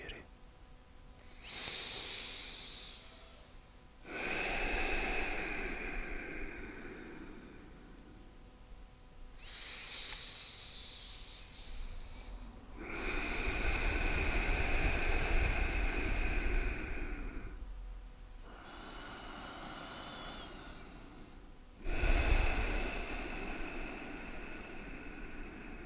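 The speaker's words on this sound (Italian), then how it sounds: "prenditi due o tre respiri addominali di nuovo per rilassare il corpo" Slow, deep abdominal breaths during a yoga nidra relaxation session, long soft airy inhales and exhales in repeated cycles with pauses between them, close and quiet.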